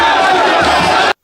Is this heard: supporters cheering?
yes